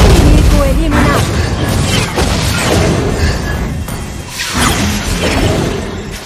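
Loud, crashing explosions and shattering bursts from the mobile battle game Mobile Legends: Bang Bang, rumbling almost nonstop with dense overlapping booms and brief dips between blasts.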